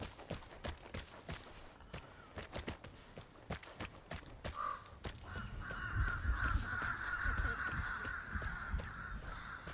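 A crow caws in the game Vigor, harsh calls heard over a run of footsteps and scuffing movement, with the calls growing more prominent toward the end alongside a low rumble.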